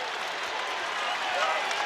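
Basketball crowd applauding in an arena during a college game between Iowa State and Arizona, a steady wash of clapping and cheering throughout at an even, fairly loud level.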